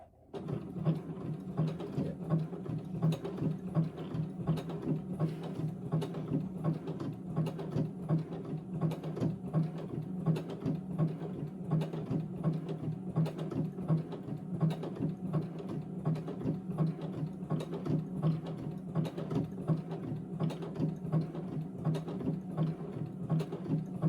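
A sewing machine driven by a foot pedal runs steadily, a quick mechanical chatter of needle strokes holding an even pace and volume for the whole stretch, with no voices.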